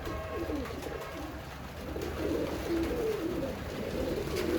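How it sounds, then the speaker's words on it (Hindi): A flock of pigeons feeding on washed grain gives soft, throaty cooing calls that repeat and overlap over a low, continuous background rumble. "अब ये दाना खा रहे हैं कबूतर माशाल्लाह से।"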